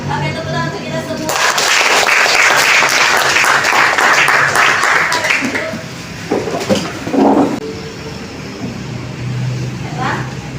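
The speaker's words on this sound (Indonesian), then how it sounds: "Oke, tepuk tangan untuk kita semua." A classroom of teachers claps together loudly in a sustained burst of applause lasting several seconds, then fades out as voices begin talking in the room.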